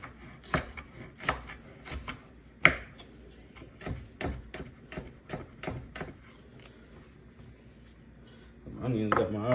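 A knife chops onions and a red pepper on a cutting board while preparing shrimp tacos, with a series of sharp, close, irregular knocks that end in a denser burst of rustling at the close.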